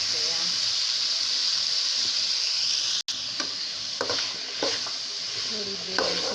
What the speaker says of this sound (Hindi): और जीरा डालते हैं।